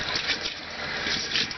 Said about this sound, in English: Finally, running water in the bathroom.